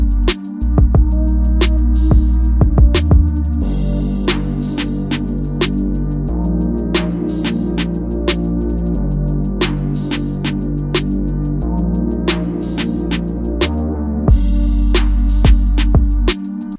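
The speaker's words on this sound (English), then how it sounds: "I dropped out some of the drums and I brought in a more synthy bass." A beat section with some of the drums dropped out and a synthy bass brought in: steady, loud electronic music with a deep sustained bass line under a sparse pattern of crisp percussive ticks, no voices.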